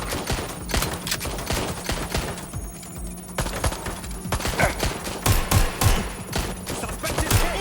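Rapid gunfire crackles through a Watch Dogs Legion firefight, dense close bursts of automatic shots in quick succession with loud, uneven sharp cracks nearly throughout, with voices shouting underneath.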